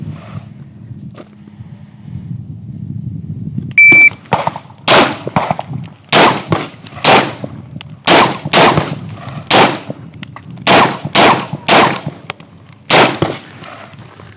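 Rifle gunshots at an outdoor shooting range crack loudly in a rapid string of about a dozen sharp reports after a quiet start with a brief beep.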